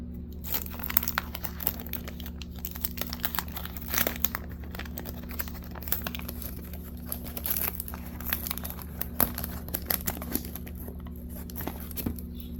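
A Donruss baseball card wax pack wrapper crinkles and tears as the pack is opened, giving close, continuous crackling and rustling with sharper crunches throughout and no voices.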